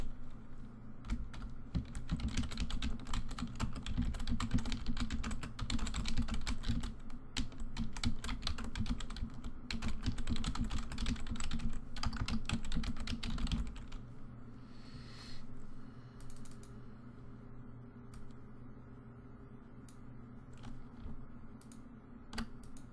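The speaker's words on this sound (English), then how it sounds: "you can type on a shape by just left clicking on it and then typing" Rapid typing on a computer keyboard, dense bursts of key clicks near and clear for about fourteen seconds over a low hum, then slowing to a few scattered clicks.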